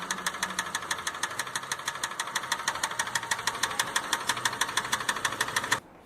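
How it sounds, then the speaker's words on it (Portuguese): A car engine running with a knocking connecting rod, a fast, steady metallic tapping that repeats evenly for several seconds and then stops abruptly, close and prominent with no voices. "Barulho de biela batendo."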